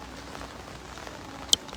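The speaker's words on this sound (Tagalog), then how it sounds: "Kanina pa po umuulan, ay kahapon pa umuulan dito" Rain falls steadily at an outdoor car lot, a soft, even patter across the surface, with a single sharp tap standing out near the end.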